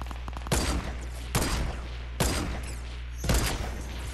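Four sharp sniper rifle shots in an online shooter game, each a loud close crack with a short decaying tail, spaced roughly a second apart over a steady low hum.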